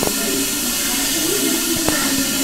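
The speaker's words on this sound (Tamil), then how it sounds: "ஸோ இப்போ அந்த ஃபார்மெண்ட் ஆகிற சத்தம்" Liquid WDC bio fertilizer fermenting in a container for organic farming, giving a steady close fizzing hiss with a few faint pops, alone without talk.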